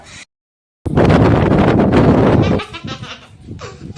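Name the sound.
strong wind blowing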